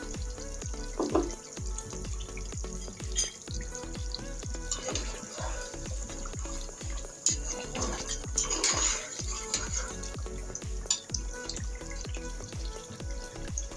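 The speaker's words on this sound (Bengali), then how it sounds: "আমি আরও দশ মিনিট ধরে কষিয়ে নেব" Beef rezala fries and is stirred in a pan, with a soft sizzle under a steady series of spoon scrapes and knocks at a regular pace, close and fairly quiet, with no speech.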